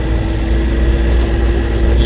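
A car's engine while driving on the road from Thane to Raigad, a steady low droning hum with constant road rumble at an even, fairly loud level throughout, with no talk over it.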